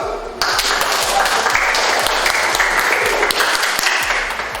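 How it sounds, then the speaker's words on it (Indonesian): An audience bursts into applause for a classroom group, with dense, sustained clapping that starts suddenly and continues steadily at close range. "Oke, silakan dulu kelompok 2. Beri aplaus."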